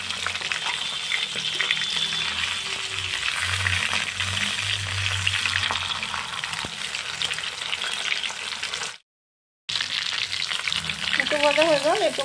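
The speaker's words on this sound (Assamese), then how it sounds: "সিজাই এনেদৰে মাছৰ মূৰটো এনেদৰে ফ্ৰাই কৰি ল'লোঁ" A fish head fries in a little oil, giving a continuous crackling sizzle for most of the stretch before a brief silence and a final burst of sizzling.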